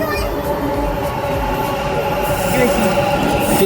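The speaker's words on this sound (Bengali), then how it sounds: "ট্রেন চলে এসেছে, আমরা উঠে পড়বো আবার। ঠিক আছে, মেট্রো চলে এসেছে।" A metro train pulls into a station in Bangalore, a loud rumbling roll with faint wheel squeal and rail noise that builds toward the end.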